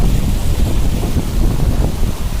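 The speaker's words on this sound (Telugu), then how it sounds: "మనమైతే వాటర్ ఫాల్ దగ్గరకు వచ్చేసాం" Muthyamdhara waterfall in a forest, roughly 700 feet high, heard as a loud, dense low roar of falling water, steady and close, with buffeting wind on the microphone.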